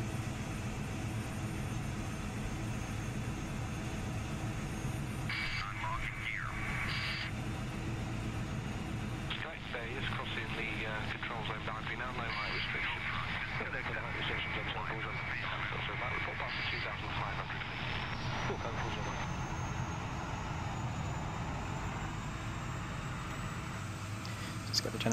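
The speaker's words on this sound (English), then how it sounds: "So let's get the left engine on." A Carenado Citation II business jet engine starts up in a flight simulator. A steady broadband roar fills the clip, with a thin whine that rises gradually as the turbine spools up. Brief tonal cockpit beeps sound early on.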